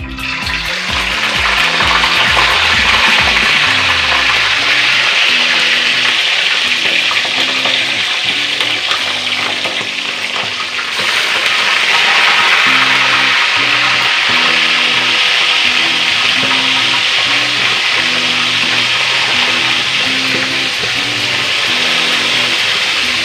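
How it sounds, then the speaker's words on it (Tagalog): Fish frying in hot cooking oil, a steady, dense sizzle and crackle that runs loud and close throughout, with faint rhythmic knocking underneath and no talk. "Pinipray ko na natin yung ating pag-isda."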